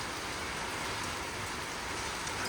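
Heavy rain pours down in a constant, dense roar during a rain and hail storm, loud and unbroken throughout.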